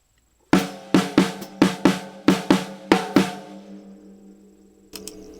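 Drum rudiment called dotted doubles played on drums: eight sharp, evenly paired strokes ringing close and loud, then a pause and a brief final pair of hits.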